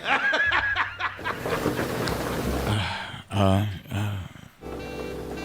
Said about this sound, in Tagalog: Oh, grabe kayong ulan, oh.